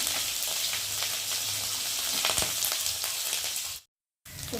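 Garlic, cumin and ginger paste goes into hot oil with fried whole spices, giving a loud, steady frying sizzle with faint crackles that cuts out abruptly for a moment near the end before resuming.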